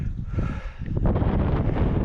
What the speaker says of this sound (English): Bit of a windy one today